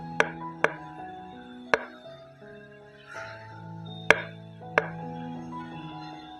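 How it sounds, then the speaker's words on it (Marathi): A knife roughly chops tomatoes, onions and chillies on a board, giving about six sharp, separate knocks at an uneven pace over soft background music. "सर्वात आधी आपण टोमॅटो, कांदे, मिरच्या रफली कट करून घेऊया."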